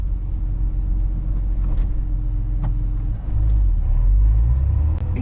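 Production Lotus Emira sports car on a UK road, heard from inside as a steady low engine and road rumble that swells louder after the midpoint, with no talking.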